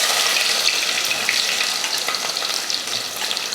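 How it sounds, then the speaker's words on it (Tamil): Fenugreek seeds, curry leaves and small shallots hit hot oil for a fish curry, giving a loud, continuous close sizzle with light stirring scrapes throughout. "எண்ணெய் காஞ்சதுமே வெந்தயம், கருவேப்பிலை, ஒரு 100 கிராம் சின்ன வெங்காயம்,"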